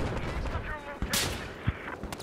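Gunfire in Battlefield 4, a dense crackle of rapid shots with a few sharper louder cracks, busy and close amid other battle noise, with voices heard in the mix.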